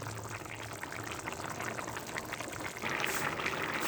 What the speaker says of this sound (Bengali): মাছ দেওয়ার পর আমি এভাবে তিন মিনিটের মতো ফুটিয়ে নেব